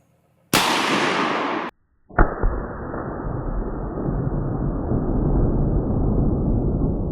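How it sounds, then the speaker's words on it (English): A single M1 Carbine rifle shot fired outdoors while testing penetration through winter clothing: a sharp, loud crack with a long rumbling tail. A burst of broadband noise comes just before it. "so maybe I'm just going to take another shot at it."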